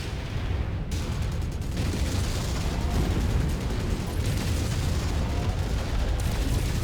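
Continuous heavy missile explosions and weapons fire in the MechWarrior 5 video game, a dense, loud, unbroken rumble of blasts and booms lasting several seconds with no speech.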